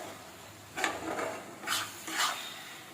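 A spoon stirs a boiled banana flower curry in a pot, making four close scraping, wet strokes in an uneven rhythm, with quiet pauses between them and no voices.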